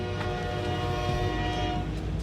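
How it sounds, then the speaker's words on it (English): A train passes on nearby tracks, a loud continuous rumble of wheels and cars with a sustained horn tone running through, close and steady throughout. "There would be a train right now."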